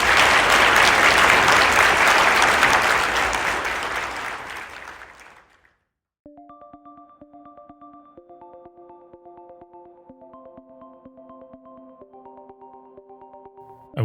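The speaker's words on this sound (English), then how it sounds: "A round of applause for all those who shared stories." An audience claps loudly in a dense burst of applause that fades away after about five seconds, followed by a pause and then soft sustained musical tones.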